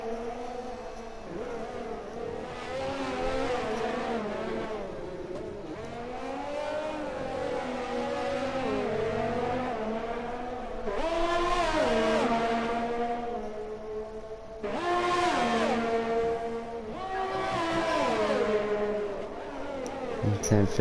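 Race car engines at Baku in an F1 racing game, high revving tones rising and falling through gear changes, with louder surges as cars pass close.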